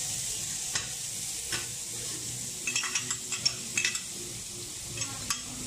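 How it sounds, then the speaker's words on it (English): Garlic sizzles in hot oil in a pan, a steady close frying hiss broken by a few sharp clinks and scrapes of a utensil stirring. "We'll see when we're done frying all the garlic."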